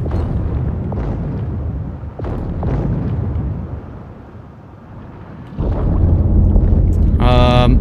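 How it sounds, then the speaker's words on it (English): Depth charges dropped by a Gearing destroyer explode around a German U-2501 submarine in World of Warships, sending deep, rumbling booms through a muffled underwater scene, with one louder blast near the end. "Gearing is dropping depth charges"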